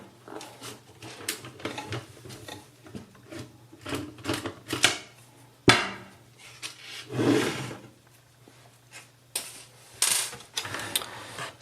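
A screwdriver works on the case of an old 5-inch black-and-white Digitor G7108 CRT television, with scattered close clicks, scrapes and plastic rubbing in short uneven bursts over a faint steady hum.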